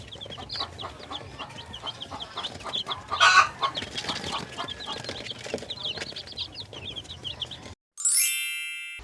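Native backyard chickens cluck steadily up close, with short calls repeating through most of the stretch before it cuts off, ending in a brief bright ringing tone.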